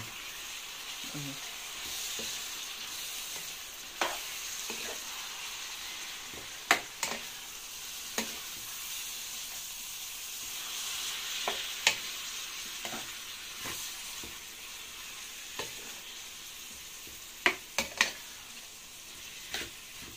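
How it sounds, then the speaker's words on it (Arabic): Chicken liver and gizzards fry in a pan with a soft, steady sizzle through the whole stretch. Scattered clicks and scrapes of stirring come at irregular intervals, and there is no talking. "هنزل زي ما انت شايفه كده اهو، هنزل بالكبده اللي عندي اهو"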